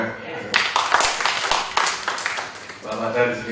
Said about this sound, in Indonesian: Tepuk tangan untuk kau ya.